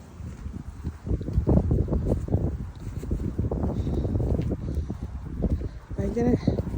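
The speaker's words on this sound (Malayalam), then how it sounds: "ഭയങ്കര കാറ്റുണ്ട്." Strong, cold wind gusts outdoors on small residential roads, buffeting the microphone with loud low rumbles throughout while a person talks over it.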